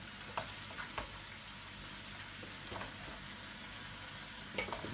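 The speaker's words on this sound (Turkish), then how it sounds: "Güzelce bir karıştırıyoruz." Leeks frying in a pan are stirred, giving a steady soft sizzle with a few brief scraping accents from the spoon, fairly quiet and close, with no talking.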